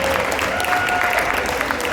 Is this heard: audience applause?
yes